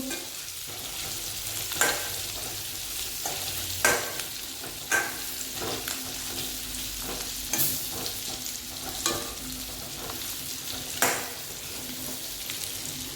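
Gunda for sambharo is stirred in a frying pan over a steady background sizzle, with a spatula scraping and knocking the pan every second or two, close by and without speech.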